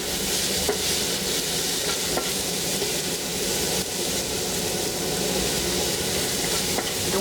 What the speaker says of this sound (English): So I'm going to just drop in the garlic in here, ginger, saute till it's fragrant.